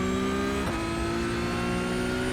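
Porsche GT3 Cup 992.1 race car engine in iRacing at Donington Park GP, loud and steady at high revs, flat out, with a brief shift-like dip partway through and no talk.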